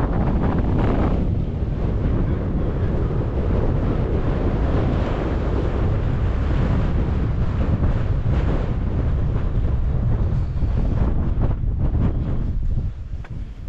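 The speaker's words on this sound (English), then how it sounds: "it's got quite windy" Strong wind roars and buffets the microphone continuously on the sand dunes of Perran Sands, a heavy rumbling gusty noise with no voices.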